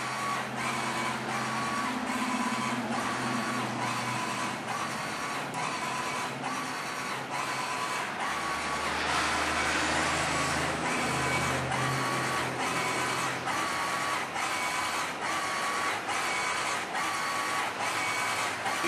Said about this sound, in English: The direct-to-garment printer prints in multiple colors.